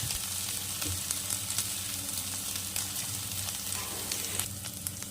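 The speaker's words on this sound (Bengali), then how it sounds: "মশলাটাকে এক মিনিট একটু কষিয়ে নেব" A spice paste with salt and turmeric fries in a pan for a bata fish curry, giving a steady close sizzle with scattered crackles and light stirring.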